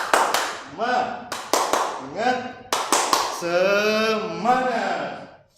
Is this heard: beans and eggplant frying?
no